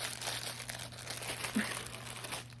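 Fabric packaging crinkles and rustles steadily for a couple of seconds, with one brief louder crunch near the middle, while a low steady hum sits underneath. No one speaks.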